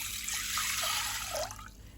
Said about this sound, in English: Just add the dry beans to the rice cooker together with water